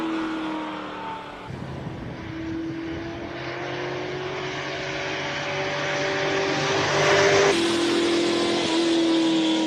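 A classic Porsche 911 Turbo pulling away off the start at a Cape Town classic car speed event, its engine note climbing through revs, dropping at a gear change and rising again, fairly close and loud.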